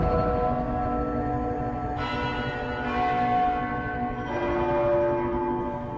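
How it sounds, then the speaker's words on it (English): A large bell clangs loudly several times, each strike ringing out and overlapping the lingering hum of the previous one. "The bell resonates with thunderous clangs"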